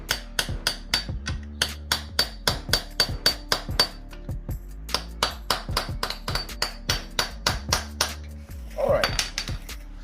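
A hammer strikes a lock washer on a 2020 ZX10R sprocket, flattening it in a long series of sharp metallic taps at a steady, fairly quick rhythm, close by, with a brief scraping rustle near the end.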